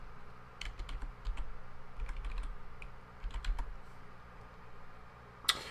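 Keys tapped on a computer keyboard while a password is entered, a quick run of close, crisp clicks in uneven bursts with brief pauses, ending on a sharper final keystroke.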